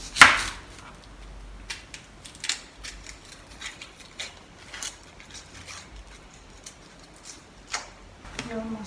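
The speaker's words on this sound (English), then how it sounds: "so I'm going to chop the onion" A knife chops onion into small cubes on a board, with a run of quick, light, irregular taps over several seconds after a sharper opening knock, close and moderately quiet.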